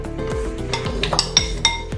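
Cut potato pieces drop one after another into a metal pressure cooker, giving a few close, sharp clinks and knocks against the pot in a quiet kitchen.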